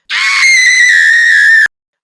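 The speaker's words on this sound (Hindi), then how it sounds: "फिर आत्मा जोर से चिल्लाती है" A spirit in a horror story lets out a single loud, piercing scream, held steady for about a second and a half before cutting off sharply into silence.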